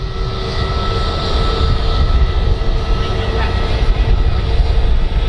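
An Airbus A320neo airliner taxis past at Manchester Airport, its engines a steady, fairly loud rumbling whine that swells slightly as it passes, with people talking over it.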